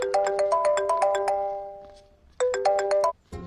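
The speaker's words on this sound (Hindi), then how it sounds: "भैया, आपको किसी का फोन आ रहा है." A loud phone ringtone for an incoming call plays a bright, chiming melodic phrase, fades, then repeats after a short gap, in a Hindi-dubbed South Indian action movie scene.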